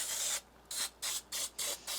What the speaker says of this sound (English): I'm going to spray this down with some baking spray with flour.